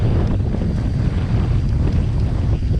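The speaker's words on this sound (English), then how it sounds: "Oh, a bit of a gust." A gust of wind buffets the microphone on a mountain bike trail, a steady, loud low rumble of wind noise filling the whole stretch with no talk.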